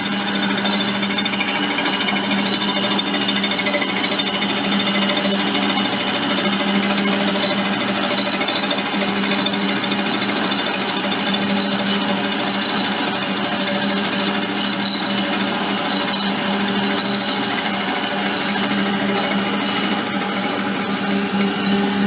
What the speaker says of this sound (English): let's get it up in the mill and put the face cutter on and get it happening